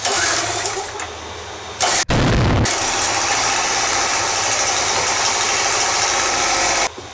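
A generator left idle for a year cranks loudly and briefly cuts out, then catches and keeps running with a loud, steady mechanical engine clatter close by until it stops near the end.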